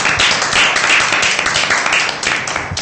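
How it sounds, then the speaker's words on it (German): Applause at a student TV show's award announcement, a short burst of many hands clapping, close and loud, continuous for a few seconds. "Applaus."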